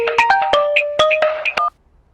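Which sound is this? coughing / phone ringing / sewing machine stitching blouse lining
phone ringing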